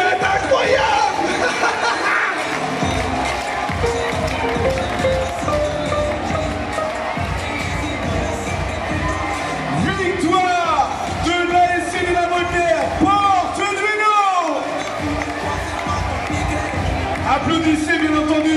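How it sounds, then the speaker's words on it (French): A basketball crowd in an arena cheers and applauds in a loud, sustained roar of clapping, shouts and whoops, with an announcer's amplified voice over the noise. "Applaudissez bien entendu"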